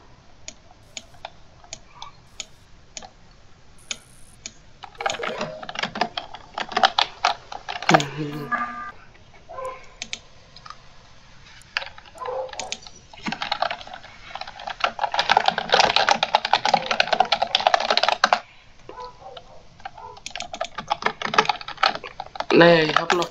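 Rapid clattering on a computer keyboard during an Among Us gaming session, bursts of close key clicks that start and stop, with a voice speaking in German now and then over the typing.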